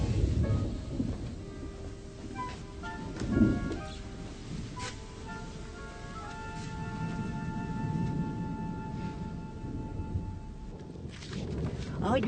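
A thunderstorm rumbles on with steady rain in a period drama scene, low rolling thunder beneath a constant wash of rainfall, with a faint voice and a tonal musical hum over it.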